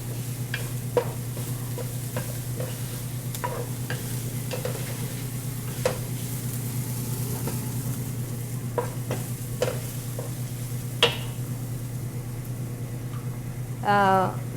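Curry ingredients and chopped garlic fry in a pan, with a constant close sizzle and repeated scraping clicks as the mixture is stirred.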